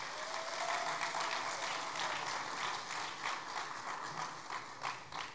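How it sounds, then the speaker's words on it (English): Sustained applause from an audience at a school sports awards ceremony, honoring basketball players, a dense wash of many hands clapping at steady loudness throughout, with no talk over it. "A big round of applause for all our basketball players."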